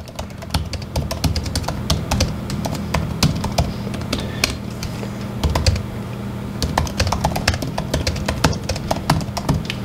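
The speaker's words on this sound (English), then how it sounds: "Let me try just typing my name up." Rapid, irregular clicking of keys being typed close up on a 2020 MacBook Air M1 laptop, in bursts with short pauses, over a low steady hum.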